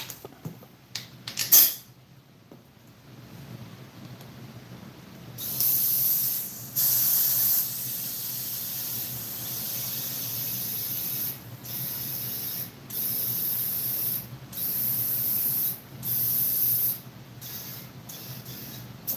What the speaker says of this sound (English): Got some leaks around that bead.